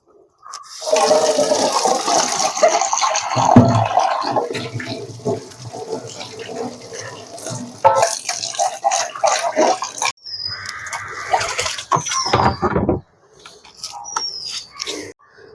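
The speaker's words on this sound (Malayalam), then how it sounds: "ഇതിൽ വെള്ളം ഒഴിച്ച് കൊടുക്കുകയാണ്" Water pours steadily from a container into a bowl for a birds' water feeder, a full splashing gush lasting several seconds, then shorter pours with brief pauses and a few faint bird chirps near the end.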